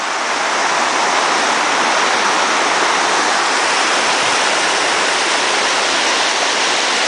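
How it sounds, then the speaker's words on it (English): Water of the Renews River in Newfoundland rushes and flows strongly, a loud, steady broadband roar like a cascade, heard up close without pause for the whole stretch, with no voices. "Got more water flowing now this time."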